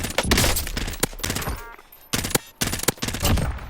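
Rapid bursts of gunfire in Call of Duty: Modern Warfare, loud and close, coming in several clusters broken by short pauses, with brief quieter gaps between volleys.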